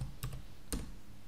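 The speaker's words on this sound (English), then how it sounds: "So the owner will start typing the city." A few soft, quick key clicks on a computer keyboard as a city name is typed into a listing form, close and quiet against a faint room hush.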